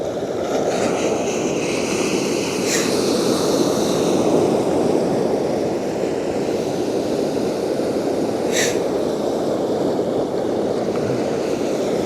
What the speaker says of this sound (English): you like these waves crashing on the shore that you hear now